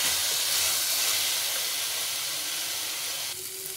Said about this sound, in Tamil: இப்போ நல்லா கலந்து விட்டுடலாம்.